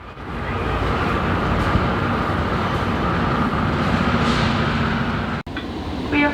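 A GO Transit train at a Toronto Union Station platform gives off a steady, loud low rumble and hum that runs unbroken, then drops out briefly near the end before resuming more quietly.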